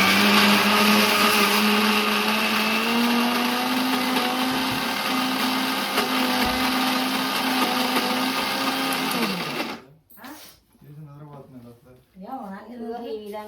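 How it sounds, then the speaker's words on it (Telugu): A mixer grinder whirs loudly and steadily for about ten seconds grinding ginger, then stops and a person starts talking. "అయితే మిక్సీ పట్టుకోవాలి"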